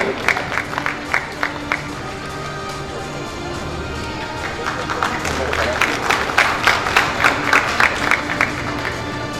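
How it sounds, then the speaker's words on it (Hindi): An awards show audience claps and cheers for an honoree called on stage, a broad crowd roar that swells louder in the second half, with sharp clap bursts and a voice over a loudspeaker at times. "जोरदार तालियां चाहता हूं मैं शक्ति दुबे जी के लिए"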